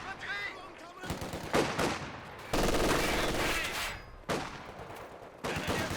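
Machine gun bursts in the game Company of Heroes 2, with several sharp rattling volleys separated by short lulls amid battlefield noise, and a voice speaking briefly early on.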